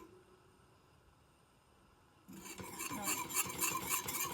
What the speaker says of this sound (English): See, it's starting to boil there a little bit on the edges.